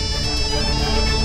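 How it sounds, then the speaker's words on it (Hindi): A short burst of an electronic phone ringtone, a steady tonal chime that plays briefly with no voices. "राधा का फोन है, वो भी इतने दिनों बाद।"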